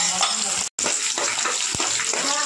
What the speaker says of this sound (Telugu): బ్రౌన్ కలర్ వచ్చేదాకా వేపుకోవాలండి.